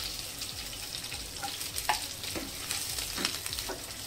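Dried chillies, finely chopped curry leaves and green chillies frying in hot oil for a homestyle Kerala ginger curry, a steady close sizzle with light stirring scrapes, no talking.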